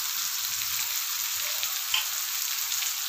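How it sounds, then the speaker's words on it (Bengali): Coriander and turmeric powder sauté in hot oil for a veg dal, giving a continuous bright sizzle that stays even and close for a few seconds, with a faint scrape partway through and no voices. "ছোটো চামচের হাফ চামচ ধনে গুঁড়ো দিয়ে ভালো করে কষাবো। এবার আমি দিয়ে দিচ্ছি হলুদ গুঁড়ো"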